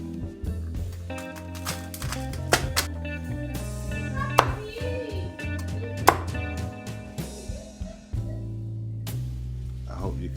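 Crispy Siu Yuk Chinese roast pork belly is chopped with a knife, giving sharp irregular crunchy cracks and thuds on a board at close range, with some talk and kitchen background running underneath.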